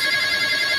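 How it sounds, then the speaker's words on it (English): A telephone ringing loud and steady, a continuous bright electronic ring filling the short moment. "ignore the phone."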